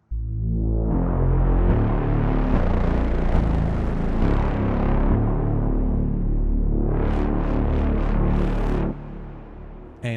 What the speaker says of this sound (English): I'm also stacking another analog bass on top of that. It has a little bit of reverb on it.